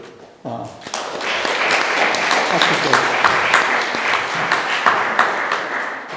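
A Korean church congregation at Sunday worship in Vienna breaks into sustained applause, rising quickly to a full, even roar of clapping that fades slightly at the end, with a brief spoken word at the start.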